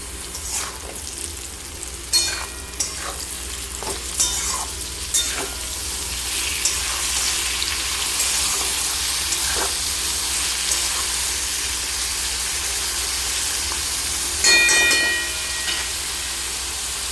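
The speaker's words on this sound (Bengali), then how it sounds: "আরও বেশ কিছুক্ষণ নাড়াচাড়া করার পরে আমি এতে দিয়ে দিচ্ছি লাস্টে একদম বেগুন।" Drumstick and eggplant curry frying in a pan, a loud, continuous sizzle with occasional scrapes and clacks of a spatula as it is stirred.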